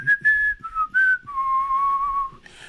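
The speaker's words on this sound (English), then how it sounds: "if I can whistle it today" A person whistles a short melodic tune alone, with clear tonal phrases separated by brief pauses, sustaining a long steady note near the end.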